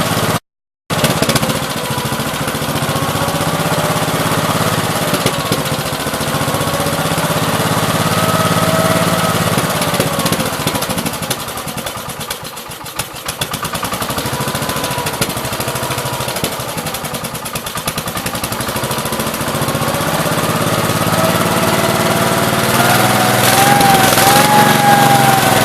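The rebuilt original motor of a 1969 Gravely 432 runs steadily at close range for the whole stretch. Its even engine drone is broken only by a short dropout near the start and a brief dip midway.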